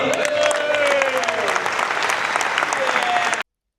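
A crowd of players applauds at the opening of the Winamax Poker Tour main event in Nantes, a dense, loud, continuous clapping with a murmur of voices that stops abruptly.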